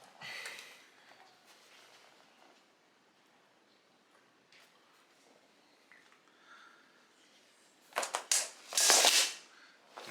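Corflute plastic sheet being cut, with faint scraping early on and then a loud burst of crunching, snapping cuts near the end.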